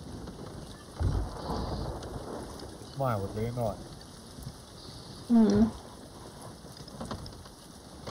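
Stormy weather at sea in the video game Sea of Thieves: constant heavy rain hiss with low rumbling underneath, while several people talk over it in short bursts.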